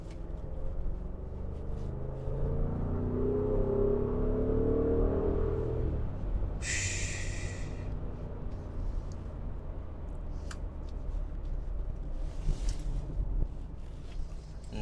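A 2021 Audi SQ7 rolls through a turn, its engine a steady low rumble that swells for several seconds and then settles, with a brief hiss and scattered clicks from the cabin later on.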